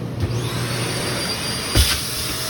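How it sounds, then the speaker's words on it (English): A central vacuum system runs inside a 2022 Keystone Hideout 28RKS travel trailer, giving a loud, steady, close whooshing drone with one brief bump in the middle and no talking. "Central vacuum system."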